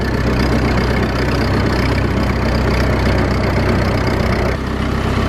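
A steady, rumbling old scraper tractor engine idles continuously at close range in a cow shed, low and even with a faint knocking pulse, before dipping briefly near the end.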